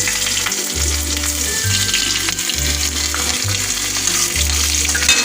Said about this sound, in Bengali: এর মধ্যে আমি 2টো কাঁচা লঙ্কা, একটু 5 ফোড়ন, একটু কালো সর্ষে আর একটু রসুন থেতো করে নিয়েছি। এটা আমি ফোড়ন দেব।